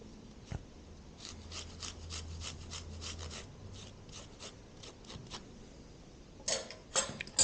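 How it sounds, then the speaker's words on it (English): Half a garlic clove is grated for braised spinach in a series of quick, close rasping strokes with a steady rhythm, and a few louder scrapes and knocks come at the end. "we're going to grate a little bit of garlic in there"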